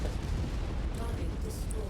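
Video game explosions destroying a target, a dense low rumbling roar that fills the whole moment, with a voice speaking over it.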